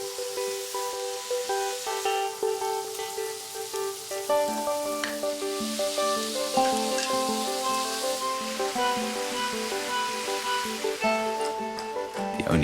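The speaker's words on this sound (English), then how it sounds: "The freshly prepared scallops are then heated together with the frying bacon in the pan." Freshly prepared scallops and bacon fry in a pan, a steady close sizzle and crackle lasting throughout, with soft music playing underneath.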